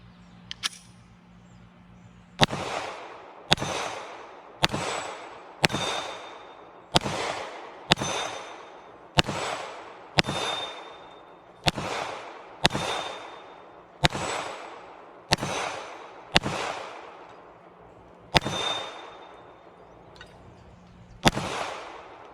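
A Glock 48 pistol fires round after round from PSA Micro Dagger magazines, sharp cracks spaced roughly a second apart at close range, with a short pause before the last two shots.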